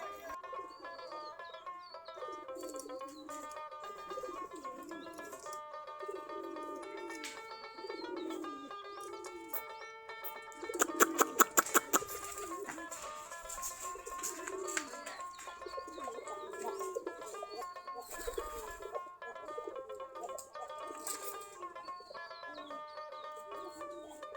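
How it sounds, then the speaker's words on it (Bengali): Native Giribaz pigeons coo softly and repeatedly around their coop, with occasional chirps and a short burst of sharper noise midway, all fairly faint and distant. "আমাদের দেশি গিরিবাজ কবুতর।"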